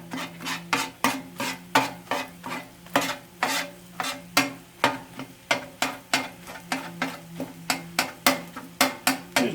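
Peppers for chicken fried rice sizzle in a pan while a utensil chops and stirs them in quick, regular scraping strokes, close and fairly quiet, with no talking.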